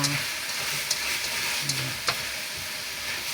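Cubed meat sizzles steadily in a pan, a close, continuous frying hiss with a few soft stirring clicks, no voices.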